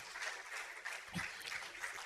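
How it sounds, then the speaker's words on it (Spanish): Church congregation breaking into soft, fairly distant applause, a steady wash of many hands clapping with a brief low thump partway through. "¿Cuánto le da un aplauso al Señor?"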